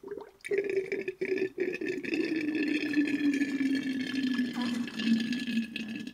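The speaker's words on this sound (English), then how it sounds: "the water now gurgles down easily" Coolant water gurgling down from a raised header tank on a Renault Trafic MK1 fitted with a 2.2 litre 2165cc engine, a soft, steady bubbling and trickle with a faint tone underneath, close by and quiet.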